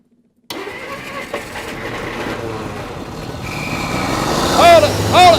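An old Plymouth car, sitting unused for 30 years, cranks and catches, its engine noise loud and steady throughout with a rising surge near the end; a brief chirping squeal rides on top as it comes to life.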